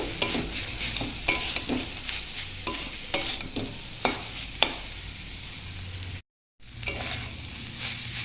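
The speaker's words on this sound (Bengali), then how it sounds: "আর এর মধ্যে আমি এখন দিয়ে দিচ্ছি পোস্ত দিয়ে আমি আর 2 মিনিট ভালো করে ভেজে নেব।" Spring onion stalks frying with poppy seeds in a pan, with repeated sharp scrapes and clinks of a spatula stirring over a steady close sizzle, a brief silent gap near the end.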